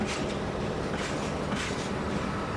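A train departs a station in the High Tatras of Slovakia, rolling along with a steady mechanical rumble and rhythmic clacking of wheels, loud and continuous throughout.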